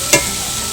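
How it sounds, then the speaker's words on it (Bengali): Potatoes frying in a pan, a brief scrape of stirring followed by a steady loud sizzle. "যেমন আমরা বাড়িতে আলু ভাজা করি সেইভাবেই আলু ভাজাটা করে নেব"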